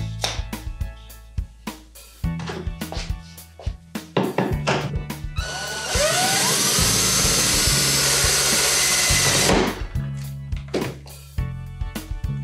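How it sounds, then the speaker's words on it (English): A hand drill whirs in a steady high-pitched grind for several seconds while drilling out a metal washer, preceded and followed by scattered clicks, knocks and handling clatter nearby. "Let's go ahead and drill it out now."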